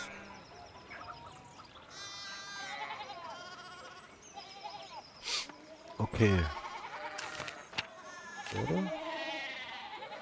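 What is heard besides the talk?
sheep bleating in the video game Pentiment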